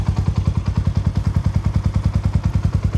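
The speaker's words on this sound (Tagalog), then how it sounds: "umiikot na po yung makina niya" A Yamaha Sniper 150 MXi motorcycle fitted with an Exos pipe exhaust idles loudly and close, its exhaust thumping in a fast, even pulse that holds steady throughout.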